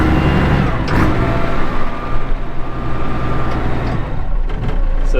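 A vehicle with a manual gearbox and foot pedal cruising at top speed down a road, giving a continuous loud engine drone and road roar with a brief rising surge midway, and no talking.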